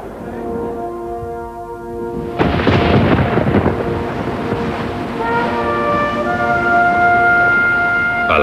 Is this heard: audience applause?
no